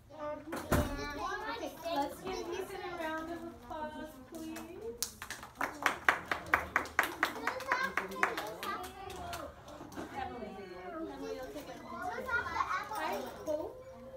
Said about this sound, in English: Let's give Ethan a round of applause, please.